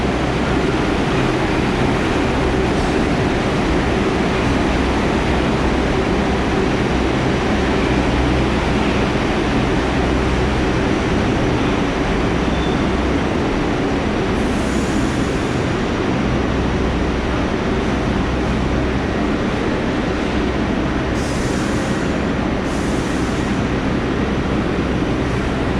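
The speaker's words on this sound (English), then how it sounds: "you see the shuttle train pulling in" Shuttle subway train pulling into the Times Square station in New York, a steady loud rumble and roar filling the platform throughout, with no voices.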